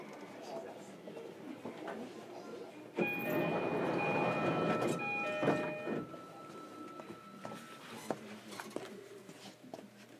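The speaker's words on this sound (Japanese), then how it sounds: "扉が閉まります。" Train doors close with a short electronic chime and a soft thunk on a Fukuoka subway 305 series train, set against low carriage rumble and faint background voices.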